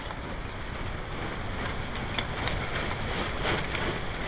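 Wind blowing outdoors in cold weather, a low, steady rumble with gusty buffeting against the microphone, fairly faint and continuous.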